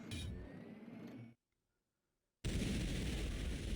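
Energy totems blasting the Primagen boss in Turok 2 Remastered: a harsh, dense roar of energy fire that cuts out into a second of near silence, then slams back in just as loud.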